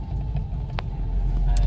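Grandma's car, an older family hatchback, driving along with a steady low engine and road rumble throughout, close and continuous, with no talking.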